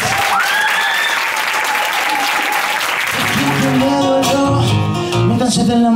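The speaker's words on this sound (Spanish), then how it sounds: "Un fuerte aplauso para él." Audience applause at a live showcase concert in Spain, loud dense clapping filling the first half, then fading under the start of a song with band music taking over.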